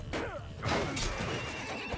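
A horse in a video game whinnies loudly with a descending, shaky neigh, followed by a second burst of neighing and some background noise.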